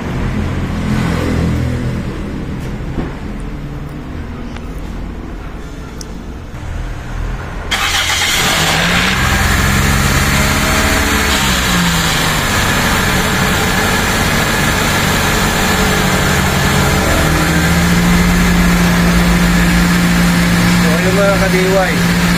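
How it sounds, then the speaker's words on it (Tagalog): A 2001 Toyota Altis 1.8G sedan cranks and fires on the first try partway through, then settles into a loud, close, steady idle that runs to the end. "one click po yung andar ng makina"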